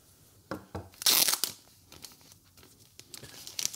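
A thick, tough plastic bag, anti-static in feel, being handled during a DJI RS4 Pro Combo unboxing: close crinkling and tearing rustles in uneven bursts, with one louder crunch, and no talking.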